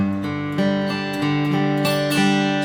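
Steady strummed chords on an acoustic guitar, several even strokes ringing out clearly with no voices, the chord shifting partway through.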